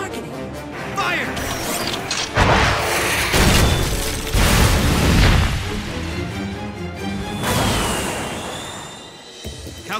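Animated Sidewinder missile strikes crash and boom in a rapid series of loud blasts, heavy impacts mixed with a busy action soundtrack and brief rushing whooshes.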